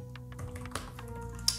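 Quick, uneven keystrokes clatter on a computer keyboard while notes are typed, close and moderately loud over a steady low background hum.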